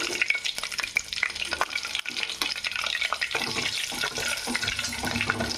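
Onions fry in a pan with a busy, close sizzle mixed with frequent stirring scrapes and splashy, watery crackles, continuing steadily throughout without talking.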